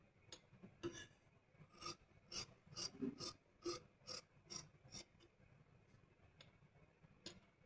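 Scissors cut the outer shape of a katori blouse directly into fabric, with a run of crisp, evenly spaced snips and rasping slides of the blades, close and fairly quiet, with no talking.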